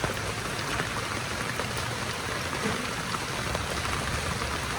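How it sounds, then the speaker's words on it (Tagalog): Steady rain pours down in a continuous, even hiss with no pauses and no voices, filling the whole stretch at a moderate level. "Ngayon, maulan na naman."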